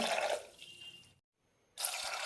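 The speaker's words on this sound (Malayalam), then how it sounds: "രണ്ട് കപ്പ് വെള്ളം ഒഴിക്കാം" Water pours into a cooking pot over soaked chickpeas seasoned with salt and turmeric, a splashing stream that tapers off, goes briefly silent, then resumes in a fuller rush.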